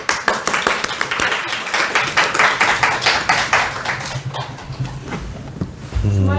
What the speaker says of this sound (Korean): 그래도 예의상 박수 쳐야죠.